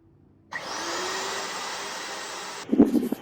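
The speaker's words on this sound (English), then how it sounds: "we're going to go ahead and we're going to turn on the router" A woodworking router switches on and spins up into a steady, loud, whining roar that runs for about two seconds, then cuts off into a few knocks and clatters, close by with no talk.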